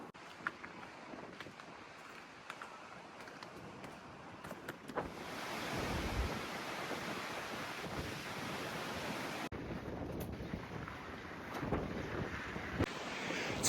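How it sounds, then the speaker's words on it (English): Strong morning wind gusts buffet the microphone on a cold Scottish coast, a rough, roaring rush that swells louder midway and stays heavy to the end, with no voices. "It's a bit windy this morning,"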